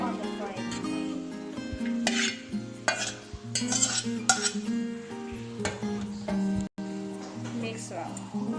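Instant noodles are stirred in a frying pan after the water is drained. Utensils scrape and clink against the pan in uneven strokes, with a voice talking over the stirring.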